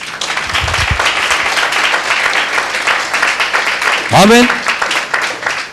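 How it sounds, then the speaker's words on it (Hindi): Congregation clapping during a Hindi-language church service, a dense, steady patter of many hands running the whole time beneath a preacher's amplified speech, with a brief sung or drawn-out vocal near the end. "मैं सोचा ये सुनकर आप तालियां बजाएंगे यार"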